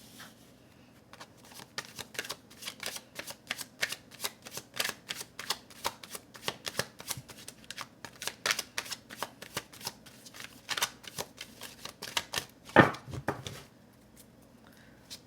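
Tarot cards are shuffled by hand, close up and quiet, with repeated soft papery riffles and flicks over about fifteen seconds and one louder snap of the deck near the end.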